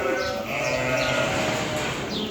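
Sheep bleat at a livestock market, several overlapping wavering calls from a crowded flock, close and loud over steady background noise.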